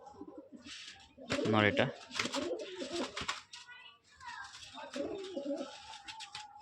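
Giribaz pigeons coo close by in short throaty bursts, with one clear coo early on, while someone talks over them almost throughout.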